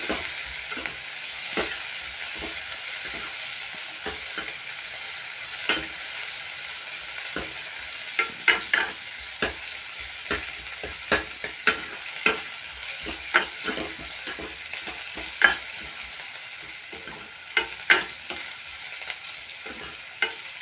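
Onions and spices sautéing for egg sambar in a hot pan, a steady close sizzle with repeated sharp scrapes and stirring clicks of a spoon against the metal.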